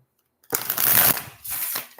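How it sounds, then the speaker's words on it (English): A deck of tarot cards is shuffled by hand in two close, crisp riffling bursts with a short pause between them, after a moment of silence. "I'm going to shuffle these ones"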